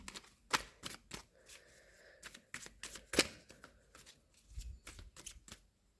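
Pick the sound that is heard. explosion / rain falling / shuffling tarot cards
shuffling tarot cards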